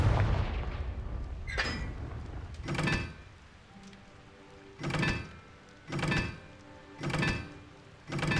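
Confringo blasting spells from Hogwarts Legacy go off as a series of heavy booming explosions, about six loud bursts spaced roughly a second apart over a low rumbling game background.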